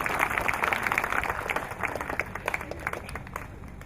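Applause from an audience at a literary talk, a dense steady patter of many hands clapping throughout, slowly thinning toward the end.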